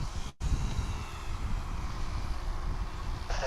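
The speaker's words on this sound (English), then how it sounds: "It'll be an A321 if we can find it." An American Airlines A321 jet airliner at DFW Airport, a steady, broad roar of jet engines at a distance with wind buffeting on the microphone, after a brief dropout at the start.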